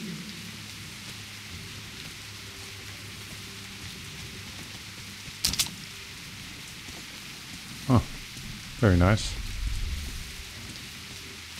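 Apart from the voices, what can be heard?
rain falling in video game Metro Last Light Redux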